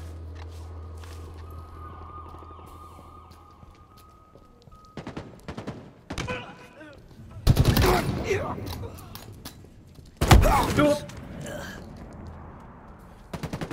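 Battle rifle fire in the multiplayer shooter Halo Infinite comes as two sharp, loud bursts several seconds apart, set against quieter game ambience, engine hum and scattered clicks.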